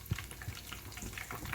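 A Monte Cristo sandwich fries in pancake batter in hot grease, giving a faint, steady crackle with small pops.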